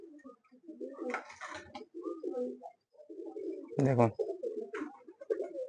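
Pigeon cooing beside someone talking about a fancy flying pigeon, soft repeated coos weaving through his speech with one louder burst near the end.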